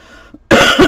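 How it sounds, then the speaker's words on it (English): A single harsh, loud cough close by, following a brief quiet moment with a faint earlier sound. "This cough and cold is just really hanging on."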